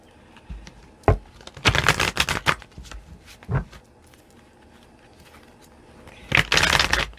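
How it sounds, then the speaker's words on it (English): Tarot cards are shuffled in several quick riffling bursts, close and crisp, separated by short pauses with a few light taps. "I'm just going to throw down like 3 shuffles here."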